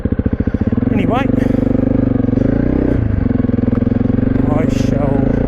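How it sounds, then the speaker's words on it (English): A Honda CRF300 Rally motorcycle rides along a road on a sunny day, its engine droning close and loud with a steady throb and small shifts in pitch, while a rider talks over it. "I shall ride on a little bit further"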